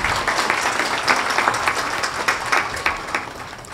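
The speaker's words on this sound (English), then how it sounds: "Can I have a round of applause for them?" A crowd claps in applause, a dense, steady patter of many hands with a few sharper claps standing out.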